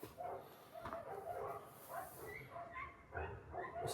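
Several dogs bark in a steady, repeated rhythm from some distance around a convent, faint but continuous over a noisy background, with a low voice murmuring at times.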